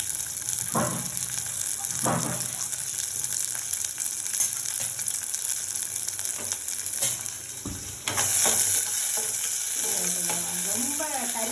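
Onions frying in a pan with small chillies, a steady close sizzle broken by a few scraping stirs and occasional metallic clinks, moderately loud and continuous, with no talking.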